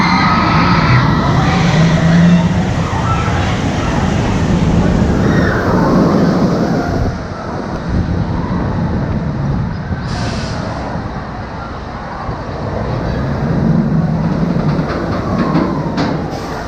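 The Wicked Twister roller coaster at Cedar Point running, a loud rumbling roar of wheels on track that surges and fades with rattling and wind noise, heard from on board.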